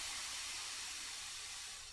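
Steady, loud hiss of steam sealing Toyokalon synthetic dreadlocks, a continuous broadband spray that holds level throughout and thins slightly at the very end, with no voices.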